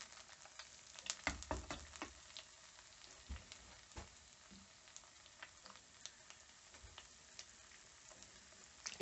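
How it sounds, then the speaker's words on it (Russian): An egg fries in a pan over a homemade gas burner set to a low flame. The quiet, faint sizzle is dotted with sporadic small pops and ticks, and no one speaks. "Можно взять также и разбить яичко."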